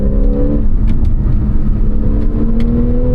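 A 2014 Porsche 911 Carrera 4S (991.1) with sport exhaust in Sport Plus mode, engine note rising steadily as the car accelerates, close and loud without speech.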